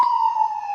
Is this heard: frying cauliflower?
no